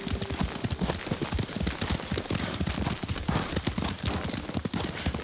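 Galloping horse hooves in the samurai video game Ghost of Tsushima, a fast, continuous clatter of hoofbeats, close and loud throughout, with no talk over it.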